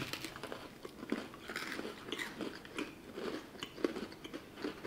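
Close biting and chewing of an Oreo topped with sour cream, a steady run of moist crunches and mouth noises lasting several seconds, with no speech.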